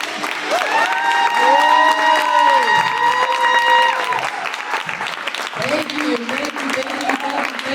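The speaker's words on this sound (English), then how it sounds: "Clap up yourselves." Applause from an open mic audience, loud and sustained, with a sung or held voice ringing over the first four seconds, then clapping continuing under speech.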